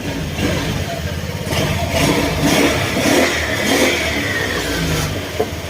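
A mid-pitched engine idles and revs up in a few surges, close and steady, with a faint background whine.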